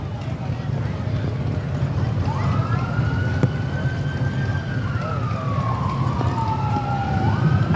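Emergency vehicle sirens sound during a small-town school parade in McPherson, Kansas, with a steady wailing tone rising and falling over crowd noise, fairly close and continuous.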